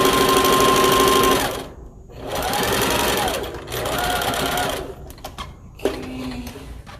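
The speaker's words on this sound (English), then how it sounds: "When you're stitching, make sure that the stitch is close to the head." A sewing machine stitching fabric for a homemade lunch bag runs in close, loud whirring bursts, stopping and restarting three or four times with brief mechanical clicks between runs.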